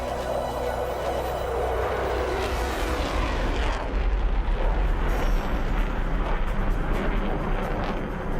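A JF-17 or F-16 fighter jet at an Independence Day airshow roars loudly and steadily, its broad engine rumble swelling and shifting pitch as it climbs out of a half Cuban 8.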